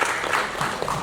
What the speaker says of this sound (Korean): 빠르게 답변해 주셔서 박수 한번 쳐주시죠